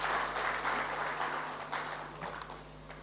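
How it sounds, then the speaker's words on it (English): Audience applause for a design panel at an architecture and interiors debate event in Chandigarh, India: a steady, dense wash of clapping from a crowd that fades slightly toward the end, with no speech. "one loud applause for them."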